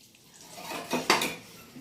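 Egg-coated bread toast fries in a pan while a utensil scrapes and clinks against the metal, bringing two sharper knocks near the middle over a faint, steady background sizzle.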